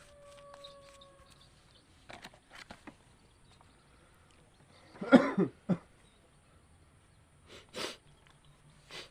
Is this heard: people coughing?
yes